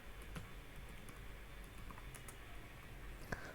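Typing on a computer keyboard at a Windows command prompt, soft scattered key clicks near and faint over a steady low background hum, with one sharper tap toward the end.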